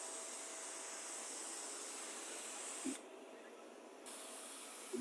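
A JOSR sprayer hisses steadily as it lays a light coat of carpet cleaner onto carpet, a close continuous spray that briefly drops in strength midway before resuming.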